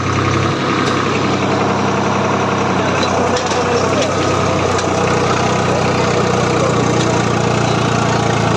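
A tractor engine idles with a loud, steady low chugging rumble close by, while a voice talks faintly beneath it.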